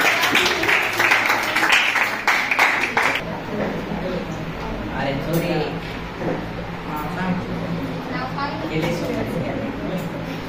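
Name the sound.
applause, people clapping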